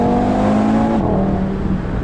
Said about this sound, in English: That exhaust is just absolutely brilliant.